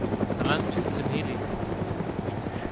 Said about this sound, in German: Da landet ein Typ mit dem Heli.